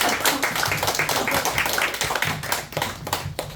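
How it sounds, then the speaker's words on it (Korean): An audience at a Korean inauguration ceremony claps together, a dense, loud burst of many hands with sharp overlapping slaps sustained across the whole moment, no talking over it. "여러분 다시 한번 우리 박상구 총장님께 수고하신 큰 박수를 한번 부탁드립니다."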